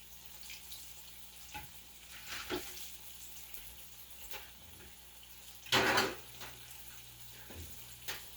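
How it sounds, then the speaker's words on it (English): Quiet, steady sizzling of fish frying in a pan, with occasional clinks and scrapes of utensils and one louder clatter midway. "while the fish is frying."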